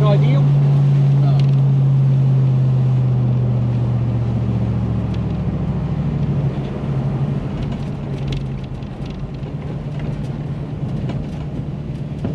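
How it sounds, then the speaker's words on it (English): A Toyota 1UZ V8 fitted in a Hiace van idles with a steady low drone that eases slightly as it settles, a radiator fan running alongside and a voice talking over it. "It's idling, it's doing most of it like it should."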